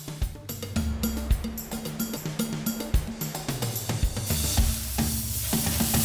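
Tuna steaks sizzle on a grill with a steady crackle and hiss, and scattered clicks and taps of handling come through a low tonal background.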